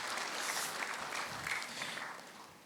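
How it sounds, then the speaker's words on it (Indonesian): A church congregation applauding during a sermon, a dense wash of clapping from many hands that holds steady and fades slightly at the end. "Berikan tepuk tangan untuk Tuhan."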